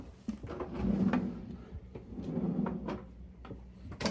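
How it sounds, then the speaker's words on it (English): Sliding drawers aboard a Beneteau 41.1 sailboat open and shut with rolling rumbles and a few sharp knocks and clicks, close by and without talk. "2 sliding drawers."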